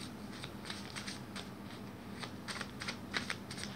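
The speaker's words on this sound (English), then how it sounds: "Let's shuffle more." A deck of cards being shuffled close up in a quiet room, quick soft riffling bursts and crisp flicks repeating steadily at low volume.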